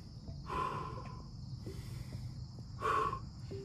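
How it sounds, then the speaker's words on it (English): Two or three deep, breathy exhalations during a light home workout, each a soft rushing puff spaced about a second or more apart, close and fairly quiet over faint steady background hiss. "Do a few deep breaths."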